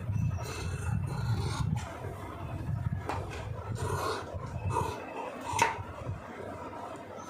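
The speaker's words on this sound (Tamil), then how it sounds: "கத்திரியை வந்து கரெக்டாக அப்படியே ப்ரெஸ் பண்ணி அமுக்குனிங்கன்னா எவ்வளோ இருந்தாலும் நீட்டாக கட் பண்ணிடும்" Scissors shearing through a thick stack of blouse fabric in rasping, rubbing strokes, close and fairly quiet, with a few sharper snips near the end.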